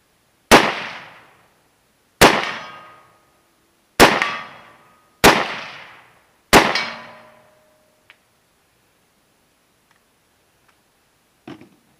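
An SKS rifle with a newly installed sear fires five loud, sharp single shots spaced about one and a half seconds apart, each ringing out with a short echo, followed by faint metallic clicks and near silence.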